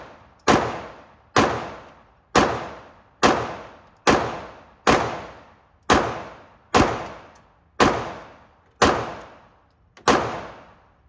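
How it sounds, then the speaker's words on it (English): A full-size gun is fired at a shooting range, with eleven loud, sharp gunshots spaced evenly about a second apart, each followed by a short decaying echo. "This is my first time shooting a full-size gun."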